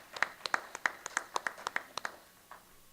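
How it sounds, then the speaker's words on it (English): Sparse clapping from a few hands at a Libertarian Party state convention in Florida, about a dozen distinct claps in an uneven rhythm that fade out, fairly close with no voices. "you should all give yourselves a round of applause"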